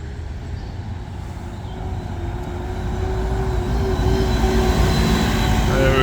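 A Metro City EV electric bus pulls away along a street in York, its low steady motor hum and faint whine swelling louder toward the end amid broadband traffic rumble.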